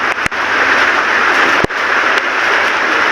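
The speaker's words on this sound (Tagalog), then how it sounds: "So umuulan na naman." During a flood, rain falls hard and steadily as a dense, even hiss close by, broken by a couple of sharp clicks.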